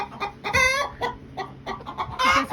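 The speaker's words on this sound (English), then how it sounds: "that's the alarm sound of your chickens" Backyard chickens sound alarm calls over a hawk with a nearby series of sharp, loud clucks and rising squawks, in irregular bursts over about two and a half seconds.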